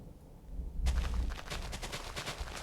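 A sharp thunder clap cracks suddenly out of near silence during a storm in a Minecraft modpack game. It is followed by a long crackling, rumbling tail that slowly fades, loud and close, with no talking.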